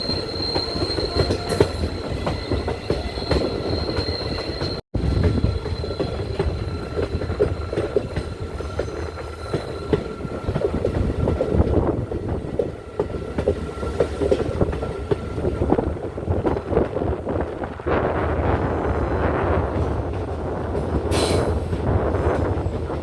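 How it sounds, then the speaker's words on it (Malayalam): Diesel passenger train pulling into Aryankavu station, a steady rumble of rolling carriages with wheel squeal and rail clatter, close and continuous, no talk. "ട്രെയിൻ ഇപ്പോൾ ആര്യങ്കാവ് സ്റ്റേഷനിലോട്ട് എത്തി."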